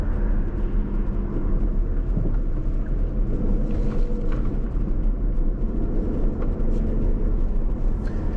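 A car drives slowly through a new housing development in Eden Hills, Lake Alfred, Florida, with a steady low engine and road rumble and light wind noise throughout. Nobody speaks.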